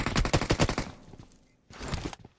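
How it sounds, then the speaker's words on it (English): Rapid burst of Mini 14 rifle shots in PUBG Mobile during a tournament match, a quick run of loud cracks, a brief lull, then another volley, close and with no talk. "Rogue Baby is actually there with the Mini 14, sent a couple shots across"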